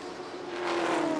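Holden Commodore and a rival AUSCAR race car battling around the Calder Park Thunderdome oval, a droning engine note swelling louder as the cars close in, steady and unbroken.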